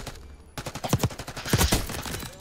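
Rapid bursts of Jackal PDW submachine gun fire with a 50-round magazine in Call of Duty Black Ops 6, loud and close, in quick repeated volleys after a brief quiet start.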